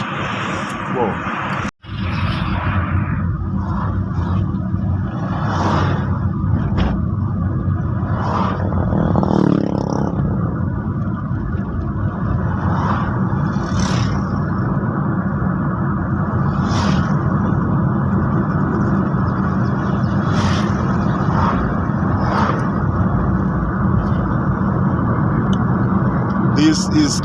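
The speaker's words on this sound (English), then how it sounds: "Let's follow this big truck all the way." Busy road traffic in Ongata Rongai, Kenya, with a big truck ahead: a continuous engine roar and rumble of passing vehicles, close and steady, with people talking over it throughout.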